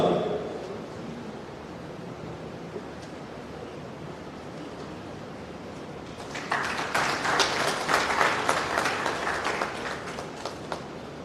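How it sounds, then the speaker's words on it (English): Audience applause at the inauguration of a Durbar Hall in Goa, starting as a hushed room hiss and swelling into dense, sustained clapping from a large crowd over the last several seconds. "Big round of applause and thanks to all our team members"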